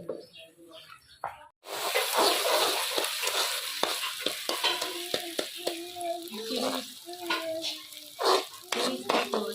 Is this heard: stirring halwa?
yes